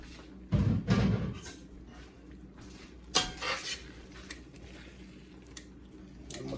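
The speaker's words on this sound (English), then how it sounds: "So now I'm gonna go ahead and mix my linguine back in" Utensil scraping and clanking as cooked linguine is stirred into sauce in a pan, two loud bursts of metal-on-pan clatter separated by quieter wet stirring, close up.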